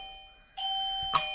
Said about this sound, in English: I've had a doorbell installed in my studio, which I seem to have forgotten to turn off